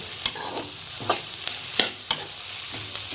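Vegetables for street-style veg fried rice frying in hot oil and being stirred, a steady close sizzle broken by sharp scraping strokes of the spatula in an irregular rhythm.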